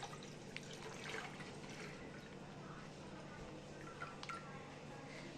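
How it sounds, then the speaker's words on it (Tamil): Milk poured from a torn plastic packet into a pan of water on the stove, a steady liquid trickle with faint splashing under a hissing kitchen background. "ஒரு பேக்கெட் ஃபஸ்ட்டு எடுத்து உடச்சி நான் இதில் விடுறேன்."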